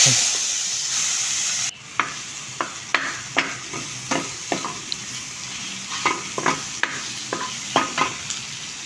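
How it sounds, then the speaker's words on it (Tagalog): Garlic sautés in a pan with a steady sizzle, then a series of about a dozen sharp scraping and tapping strokes of a utensil stirring against the pan, moderately loud and close. "Igisa natin mabuti yung bawang dahil ito yung nagpapalasa dito."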